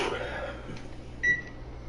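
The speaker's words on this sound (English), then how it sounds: "Oh, he's putting it in the microwave." A microwave oven runs with a Nintendo GameCube inside, giving a steady low hum throughout, with a short electronic beep-like tone partway through.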